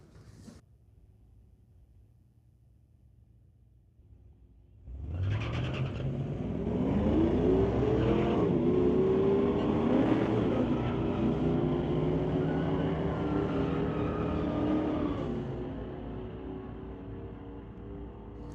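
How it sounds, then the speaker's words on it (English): Two drag cars launch from the line, a 1992 Chevy S10 pickup with a little tire shake and a 2015 GMC Sierra full-size truck, engines roaring loud and rising in pitch after a quiet idle, then fading slightly as they pull away. "Little tire shake for Matt Dawson as he took off in that S10"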